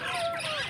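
A big chicken at a park bird house lets out a short, close clucking call, bright and continuous over its brief span, with no talk around it.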